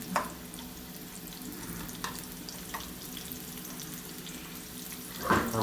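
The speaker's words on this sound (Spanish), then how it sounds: "Vamos a dejar sofreír." Fish sizzling softly in a pan for chilango-style fish tacos, a low steady fry with a few faint clinks and a brief louder scrape near the end, no talking.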